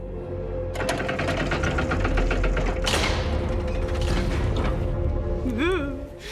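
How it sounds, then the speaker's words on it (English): Spooky creaking doors opening in a video game's dimly lit hallways, a long mechanical creak with rapid ratcheting clicks, a sharp thud, then a rising and falling groan near the end. "The dimly lit hallways and spooky sounds of doors opening."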